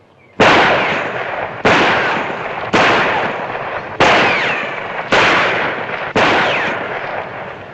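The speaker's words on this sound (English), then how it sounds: "why don't you just take out your gun and shoot at something?" Six loud, close revolver shots ring out at roughly one-second intervals, each a sharp crack followed by a decaying echo, in an old Western town setting.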